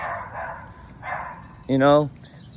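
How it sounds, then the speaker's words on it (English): A dog gives a single loud, tonal bark at close range, preceded by a couple of softer vocal sounds. "it's a dog barking"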